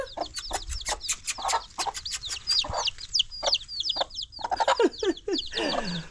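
A hen and her chick close by, with rapid high cheeping from the chick mixed with the hen's clucks and short calls in irregular bursts throughout.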